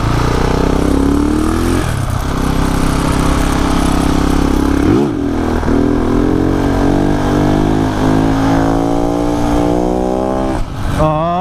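A Husqvarna motorcycle on a street during a cruise night, the engine loud and close, revving hard in repeated rising surges as it lifts into a wheelie, with brief dips between pulls.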